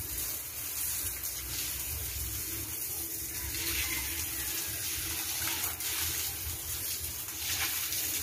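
Water runs steadily from a garden hose bought online, a continuous splashing rush that stays fairly even and close throughout, with no voices.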